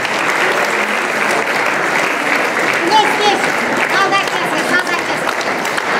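Prolonged, thunderous applause from a large crowd at an award ceremony, dense and steady throughout with faint voices beneath.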